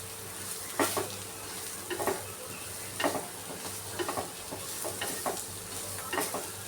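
Bitter gourd with tamarind being sautéed in a pan over a low gas flame, a soft steady sizzle with a spatula stirring and scraping roughly once a second.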